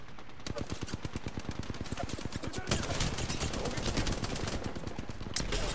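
Rapid automatic gunfire in Apex Legends, dense bursts of shots crackling almost without pause over several seconds, close and loud, with faint game voice lines underneath.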